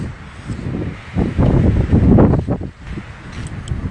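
Wind gusts across the grounds of Gyeongbokgung Palace in Korea, roaring and buffeting loudly against the microphone, building to a strong swell midway before easing off.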